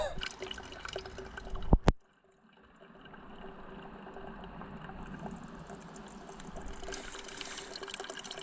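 Water runs steadily at a public water point on the Camino de Santiago while bottles are refilled, a soft continuous flow following a brief sharp knock.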